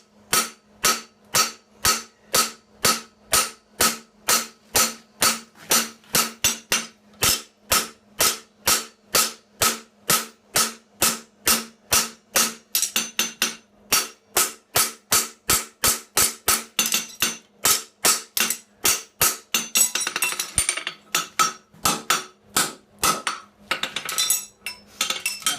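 Hammer forging the fullered front of a blade, dozens of sharp metallic strikes in a fast, steady rhythm, loud and close, with no talking.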